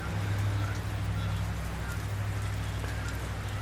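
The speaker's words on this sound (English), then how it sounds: "so the rain started" Steady rain falls outside a workshop, a dense constant hiss of drops on the roof and ground with a low hum underneath, even and unbroken throughout with no voices.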